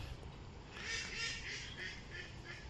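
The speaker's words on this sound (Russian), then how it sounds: "И утки говорят." Ducks quack faintly in a short run of nasal calls, somewhat distant, over a low background rumble outdoors by water near a bridge.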